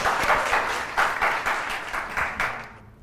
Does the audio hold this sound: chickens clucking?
no